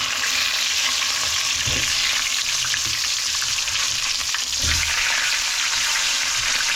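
Fish pieces frying in a pan of hot oil, a steady loud crackling sizzle that runs throughout with no talk, swelling briefly twice as pieces are moved or turned.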